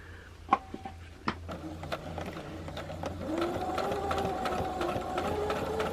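A small new sewing machine with a quarter-inch foot stitches Dresden plate quilt pieces, a few sharp clicks giving way to a steady, faint mechanical whirring hum of running stitches.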